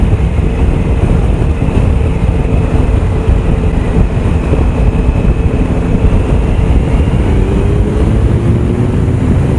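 A Triumph Tiger Sport 1050 triple engine holds a steady 3000 rpm while riding, a continuous drone partly buried in heavy wind rush, loud and unchanging throughout, with no knocking.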